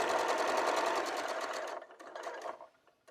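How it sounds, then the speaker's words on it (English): A sewing machine stitches a quilt block in a fast, even run of needle strokes, then slows to a few sparser stitches before stopping, with no talking. "we'll see how we do when we sew this block together."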